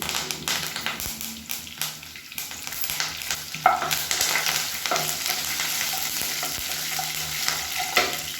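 Mustard seeds, urad dal and cumin fry in hot oil in a South Indian home kitchen. They give a soft, continuous sizzle close up, with occasional taps and stirring scrapes from a utensil.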